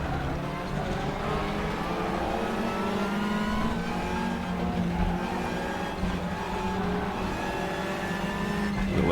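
Race car engine in the Raceroom racing game, a sustained loud roar with rising and falling revs through gear changes, other cars droning close by throughout.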